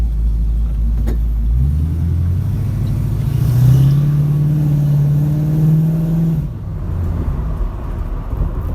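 A Plymouth Cuda driving on the road, heard from inside: a deep engine rumble rises as it accelerates through the gears, holds a steady drone, then eases off and settles to a low idle-like hum.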